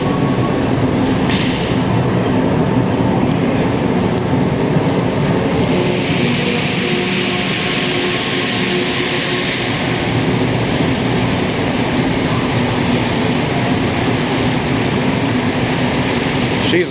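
A metro train rumbles and roars steadily throughout, with continuous rolling noise and a high squeal near the start; muffled voices faintly underneath.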